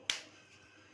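A single sharp finger snap, close and alone, with a quick bright crack that fades out against near silence, as someone snaps for butter while making a special sandwich.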